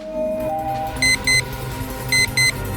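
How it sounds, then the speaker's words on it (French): A timer set off by pressing a button on a small device resembling a car remote beeps in two pairs of short, sharp, high-pitched tones, with a low hum and some murmured background sound underneath. "un genre de minuteur s'est déclenché. Quelque chose a commencé à piper ici."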